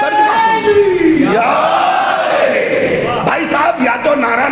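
A religious gathering's audience chants a slogan back in unison, a loud swelling roar of many voices rising and falling through the clip with a few sharper shouts.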